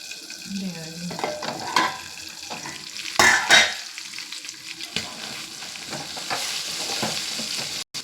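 Goat brain pieces frying in a pan with turmeric and salt, a close sizzle broken up by repeated scraping and clattering stirs of a spoon against the pan, with one louder clatter near the middle and no speech.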